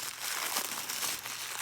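Paper packing stuffing crinkles and rustles as it is pulled out of a Chanel 22S heart bag, a close, continuous crumpling lasting under two seconds with no talk.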